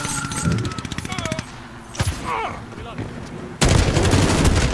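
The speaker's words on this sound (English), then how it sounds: "I'm playing with my Hogalite machine gun" Hogalite machine gun firing in a video game grind match, a rapid burst of automatic shots at the start, then scattered game effects and a sudden loud dense barrage of gunfire near the end.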